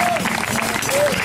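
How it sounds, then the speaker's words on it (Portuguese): Congregation applause at an evangelical crusade in Bairro do Vermelho, Minas Gerais, a short dense burst of clapping with a voice or tone rising over it. "Quem pode dar uma salva de palmas, aleluia?"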